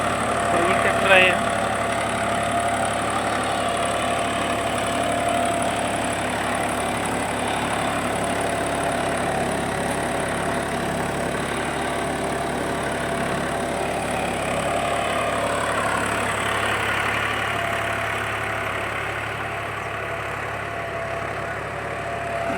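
A John Deere 5405 4x4 tractor pulls a Limkan double reversible plough through wet field soil. Its engine holds a steady, close, even drone for the whole stretch, with no pauses.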